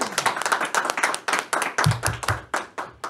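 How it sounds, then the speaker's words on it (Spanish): Rhythmic group clapping on a faith talk show, a dozen or so sharp, evenly spaced claps in a steady beat, fairly close, with a brief low voice partway through. "Despedimos este primer segmento con un fuerte aplauso"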